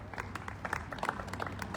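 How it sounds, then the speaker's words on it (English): An audience claps for a team member being thanked at a sports team's logo unveiling, with a brief burst of scattered, crisp hand claps and a faint murmur of voices underneath. "Matt Wagner, let's give him a round of applause, please."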